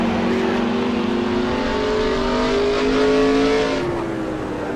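Winged NASCAR race car engine from the NASCAR Racing 2003 video game, a loud steady high-revving drone whose pitch climbs and shifts through gears, running continuously without talk.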